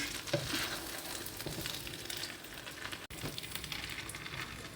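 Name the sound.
stirring rice and vegetables in a pan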